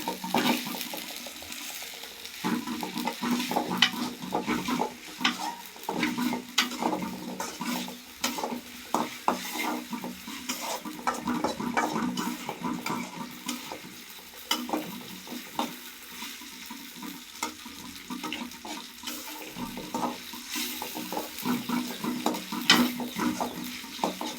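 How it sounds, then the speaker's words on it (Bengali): Ginger garlic paste sizzles in a pan for a home-style vegetarian dish, with a steady frying hiss and frequent scraping stirs of a utensil against the pan, close and continuous. "এখন আদা রসুন বাটাটা সুন্দর করে ভাজা করে নেব।"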